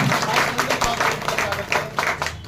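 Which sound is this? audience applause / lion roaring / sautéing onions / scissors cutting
audience applause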